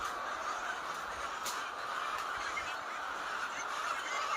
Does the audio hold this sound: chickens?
yes